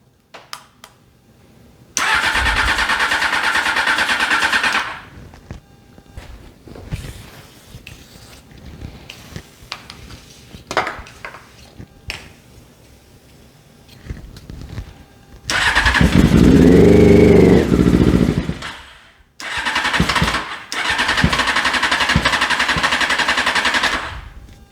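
A custom ATC600R streetbike engine cold starting with the chokes on, with several loud bursts of cranking and sputtering that catch and rev, separated by quieter gaps of clatter.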